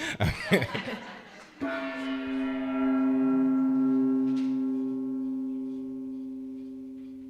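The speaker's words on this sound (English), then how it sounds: "And so we hit the gong for the first time, honoring that there is only love. Sound the gong." A gong is struck once after a moment of laughter and voices. Its bright, shimmering tone rings out loud and close, then sustains and slowly decays over several seconds.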